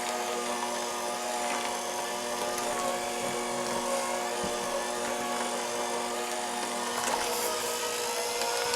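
An electric hand mixer's beaters whir steadily through banana bread batter for a churro chocolate chip loaf, a loud, constant motor buzz that runs unbroken with no talking.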